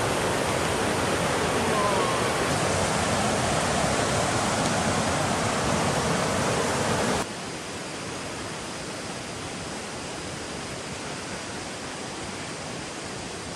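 A fast-flowing river rushes continuously in a broad, steady roar, loud and close at first, then slightly quieter after an abrupt shift midway. No voices are heard.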